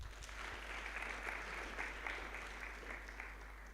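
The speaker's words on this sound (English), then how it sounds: "Can we clap for them?" Faint, steady applause from an audience at a Kenyan service-closing ceremony, even and continuous, with a low electrical hum underneath.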